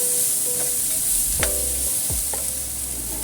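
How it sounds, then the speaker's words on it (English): Chicken sizzles loudly in a hot pan, a continuous bright frying hiss with a few scraping strokes of a spatula as the pieces are stirred around; no one speaks. "Stir fry a little bit."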